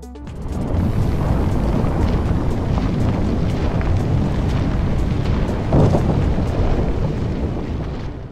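Heavy, sustained roaring rumble of a building demolition by explosions on the 5th and 17th floors splitting the core, loud and continuous, swelling slightly before fading at the end.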